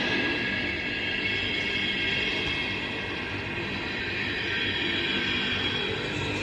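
A freight train hauled by GE Dash 9 locomotives rolls past on an overcast day, a steady, loud rumbling wash of wheel and rail noise that holds constant throughout without breaks or voices.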